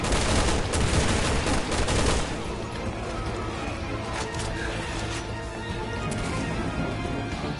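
Resident Evil 6 flashbang grenades burst in a dense, loud volley of sharp cracks for about two seconds, then fade into a steady wash of game noise and softer scattered pops.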